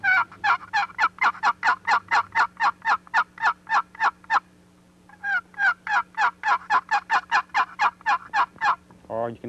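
A box call played fast and excitedly to imitate an aggressive hen turkey yelp: two long runs of about twenty sharp, evenly spaced rasping notes separated by a short pause, loud and close.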